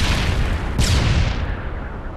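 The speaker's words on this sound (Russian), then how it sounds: "Бросаю стан-гранату!" A stun grenade goes off in a shooter video game: one sudden broadband burst of noise that fades slowly over about a second and a half against steady game background noise.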